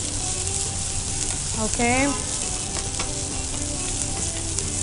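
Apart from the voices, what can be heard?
ginger garlic paste and turmeric frying in a pan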